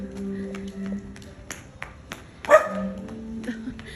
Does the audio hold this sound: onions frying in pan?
no